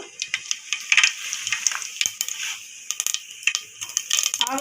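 Mustard seeds popping and crackling in hot oil in a pan, sharp irregular pops and a light sizzle close up, at the start of tempering for a mutton potato curry.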